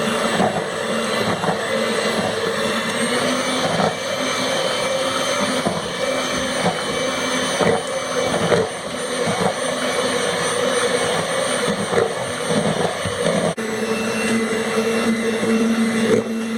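An electric hand mixer whisks cake batter for vanilla and butterscotch cake, a steady loud motor whir with a continuous tone and slight speed changes, heard alone.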